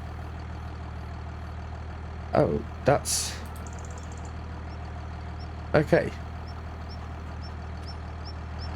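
Tractor engine idling in a farming simulator game, a steady low hum running throughout, interrupted by a couple of brief clunks and someone speaking briefly over it.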